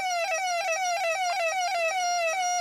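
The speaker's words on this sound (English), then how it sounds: "And that siren sound," A Coleco Pac-Man mini arcade game in demo mode plays its siren sound, a loud electronic warbling tone that sweeps up and down in a fast, steady repeating cycle throughout.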